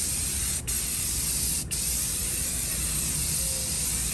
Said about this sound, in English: I do have this primer, which looks pretty flat black. And I'm gonna spray it up here